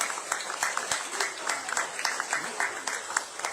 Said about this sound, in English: And I would like them to stand up and give a round of applause for our new candidates.